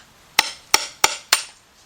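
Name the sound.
hammer striking a screwdriver to make a hole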